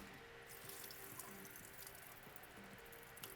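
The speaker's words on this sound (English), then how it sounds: "Rinse it off with some hot water" Hot water runs steadily from a tap into a sink as greasy cooked noodles are rinsed for kasoy, a continuous close wash of splashing and trickling with no talk.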